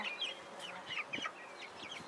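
Soft, scattered clucks and chirpy calls from several Cornish Cross chicks close by in a coop made from pallets, fairly quiet with a low murmur of background noise.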